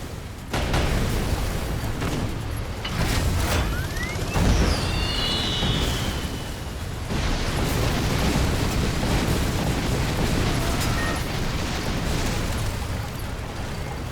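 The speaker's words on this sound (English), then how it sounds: "A whole lot of tanks you gotta blow up." Tanks blow up in the video game Sand Land, with a dense run of booming explosions and bursts over a loud, continuous battle din and a brief rising whistle partway through.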